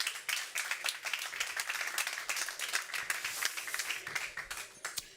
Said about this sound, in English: Little round of applause, guys